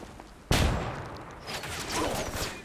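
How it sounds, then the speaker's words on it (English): A flashbang grenade goes off in the shooter video game Ghost Recon Wildlands, one sudden loud blast that decays into a rumbling tail, followed by further scattered game noise. "throwing a flashbang"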